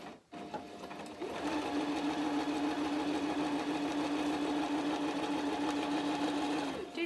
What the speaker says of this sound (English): And then you're just going to do a straight stitch straight across those handles.